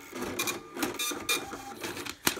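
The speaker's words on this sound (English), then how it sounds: "So over here on the kitchen printer," A restaurant kitchen printer prints an order ticket with a series of rapid mechanical buzzing bursts and clicks in an irregular rhythm, close and fairly loud.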